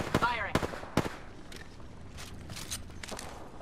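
Video game gunfire in Apex Legends: a quick cluster of sharp, loud shots in the first second, then scattered fainter pops and clatter over a low background.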